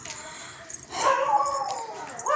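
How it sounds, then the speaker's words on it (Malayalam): Dog barks and yips ring out nearby, several sharp calls in a row with some background noise underneath. "അയൽക്കൂട്ടത്തിലെ വീട്ടിലെ പട്ടിയാണ് കുരയ്ക്കുന്നത്"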